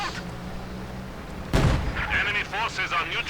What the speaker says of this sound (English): Nice hit there from the T-34.